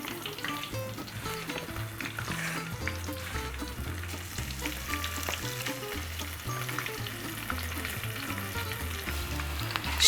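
Homemade onion rings fry in hot oil, giving a continuous bubbling sizzle and crackle that stays loud and close for the whole stretch, with faint low background music and no speech.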